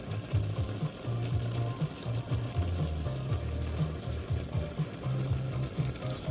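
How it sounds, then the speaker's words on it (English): Water bubbles at a rolling boil in a pot for instant noodles, a close, continuous burble and hiss with irregular low pops throughout, no talking. "Enjoy the boiling of the water."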